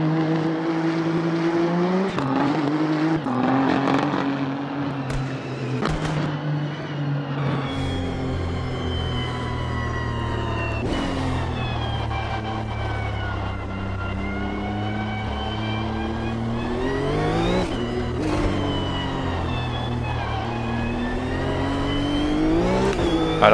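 A racing car engine in the sim racing game Automobilista 2, heard from an exterior view, roars and revs continuously, climbing and dropping in pitch through gear changes, loud and close, with occasional tire squeal.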